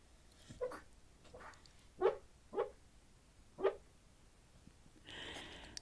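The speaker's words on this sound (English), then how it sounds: "we're gonna pause and listen to Hazel's dreaming dog sounds" A sleeping dog dreaming, letting out a few soft whimpers and muffled woofs in short separate bursts, close by and fairly quiet, followed by a brief rustle at the end.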